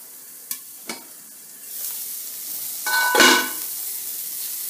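Turnip and potato sauté in a pan for a vegetable sabzi, a soft sizzle rising after a couple of light knocks, with a louder stirring scrape near the end and no talk.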